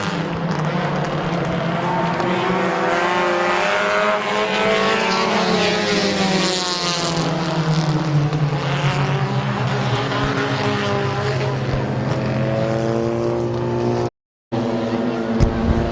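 Race cars at Midvale Speedway, several engines roaring and rising in pitch together as the pack speeds around the track, loud and sustained, with a brief dropout near the end.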